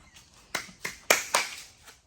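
Several sharp hand claps ring out in an irregular sequence, about five distinct smacks at moderate volume in a quiet garage setting, with no talking over them.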